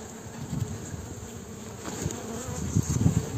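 Honey bees from an opened, very weak beehive being strengthened with frames of capped brood and honey hum in a steady, dense, close-up drone that swells slightly toward the end, with no talking.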